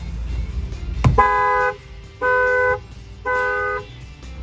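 A Dodge Challenger Hellcat Redeye factory alarm horn, set off by its shock sensor, blares in three evenly spaced bursts right after a sharp metallic bang on a wheel rim, loud and close.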